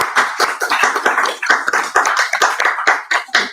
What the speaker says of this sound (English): a round of applause for White Oak Bicycle Co-op